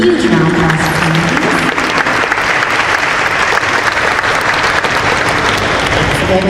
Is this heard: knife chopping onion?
no